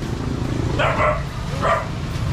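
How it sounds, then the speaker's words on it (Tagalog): A dog barks twice at a house doorway, fairly close and loud over a steady background hum. "Ay, mayroon silang aso."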